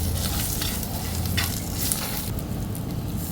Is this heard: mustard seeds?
yes